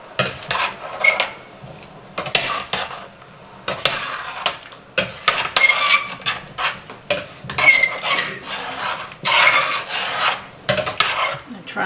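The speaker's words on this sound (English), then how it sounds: "get my fettuccine here stirred" Fettuccine is stirred in a pan for a creamy garlic shrimp dish, with repeated scraping, rubbing strokes and a soft sizzle in irregular bursts, close and fairly loud, with no talking.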